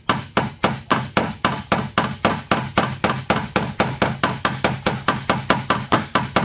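Metal body hammer taps a dent in a Nissan Murano's car body panel, striking about twenty-five times in a steady, even rhythm, close and sharp with no talking.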